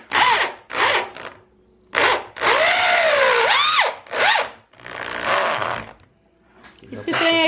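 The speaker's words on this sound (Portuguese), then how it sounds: "Não, isso aqui é uma furadeira. Ah, ela também serve de parafusadeira." An electric drill used as a driver runs self-drilling screws into wood during installation of an induction cooktop and oven, sounding in several loud whirring bursts with rising and falling pitch, separated by short pauses, while people talk in between.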